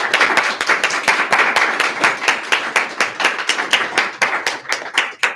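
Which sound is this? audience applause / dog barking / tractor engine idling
audience applause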